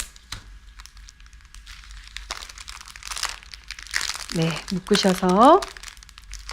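Plastic wrapping around a flower arrangement crinkles in short bursts as it is secured, with a person speaking softly over the handling.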